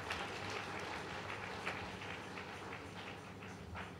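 A church congregation at a 31st Night service claps hands together, a dense, continuous wash of clapping and crowd noise heard at a distance with no clear individual beats.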